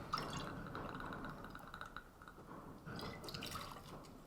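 Mr. Black coffee liqueur is poured into a cocktail shaker filled with ice, a short, quiet liquid trickle with faint dripping and splashing.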